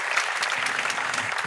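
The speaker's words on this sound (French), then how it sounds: "oui on peut l'applaudir, je crois que c'est une manière de l'accueillir" Brief, steady applause from an audience welcoming an author onto the stage for a literary season presentation at La Scala, moderately loud and continuous throughout the short stretch.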